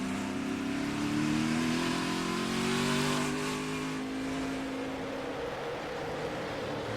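A race car engine at the 2020 UNOH 188, heard off the throttle through a slow corner: a steady mid-pitched drone that swells slightly, then eases and fades a little, continuous and fairly close.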